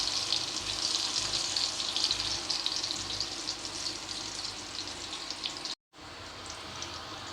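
Potato and egg frying together in a pan for an egg curry, a continuous close hiss of sizzling oil that cuts out briefly near the end, then resumes.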